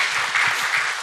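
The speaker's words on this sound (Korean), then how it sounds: "우리 박수로 크게 한번" Congregation applause at a Sunday church service in Masan, Korea, celebrating a deacon's appointment, a dense, steady wash of clapping from a crowd filling the sanctuary.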